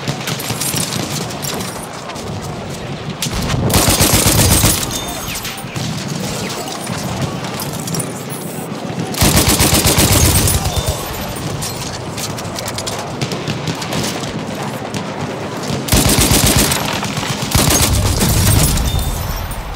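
Huot Automatic machine gun firing in Battlefield 1, three long loud bursts of rapid automatic fire separated by pauses filled with battlefield ambience and distant shots.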